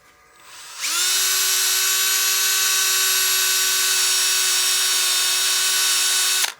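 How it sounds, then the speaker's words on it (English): A disc sander on a lathe spins up and runs at a steady, high whine for several seconds with a faint grinding texture while sanding wood, close and loud. "The disc holder helps even out that sanding pressure and helps us give us a really good surface as well."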